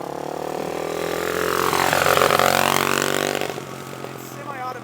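Engine of a 125cc semi-automatic four-wheeler ATV with gears and no clutch, idling and then revving up steadily to a loud peak before dropping back, heard close and continuous.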